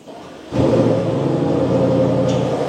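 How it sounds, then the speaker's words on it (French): A sports RS car engine is push-button started from inside, catching abruptly into a deep, loud rumbling idle that holds steady and close for the rest of the moment. "Ah, le Sport RS fait pas mal de bruit"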